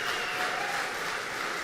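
Concert audience at a faculty chamber music concert applauding the performers as they return to acknowledge them, a dense, steady wash of clapping from a full hall, even and sustained throughout.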